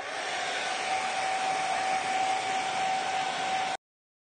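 A hair dryer blowing steadily to dry paint, a loud constant whooshing hum with a faint whine that runs for nearly four seconds, then cuts off abruptly.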